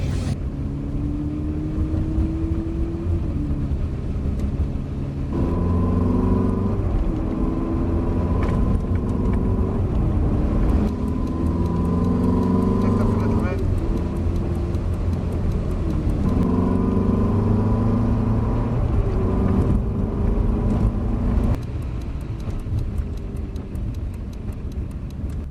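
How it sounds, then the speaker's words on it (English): Ferrari supercar driven on a track during a race day, heard from inside as a continuous loud engine drone whose pitch climbs and falls through repeated gear changes, with road rumble and steady ticking underneath and no talking. "I'm out into the Ferrari now"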